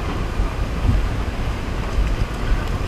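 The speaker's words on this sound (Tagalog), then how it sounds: "Hangin dito mga katroops." Strong wind buffets the microphone at the Mt. Samat overlook in Bataan, a steady broadband roar with gusty low rumbles and no voices.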